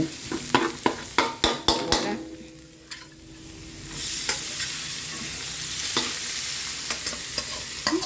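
Pork tipped into a hot pan holding enoki mushrooms and napa cabbage, a burst of sharp clacks and a rising sizzle, then steady frying under scattered spatula scrapes.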